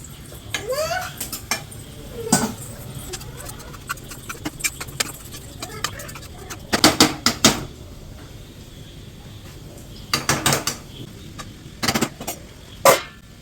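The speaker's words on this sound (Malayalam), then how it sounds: "ഇത് നന്നായി ഇളക്കാം. പച്ചവെള്ളം മാറുന്ന വരെ നന്നായി ഇളക്കാം." A spiced masala being stirred in a cooking pan, with repeated scrapes, clinks and clatters of a utensil against metal, in irregular bursts over a low background hum.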